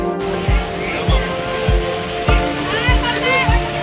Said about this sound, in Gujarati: કેવું પાણી પડે.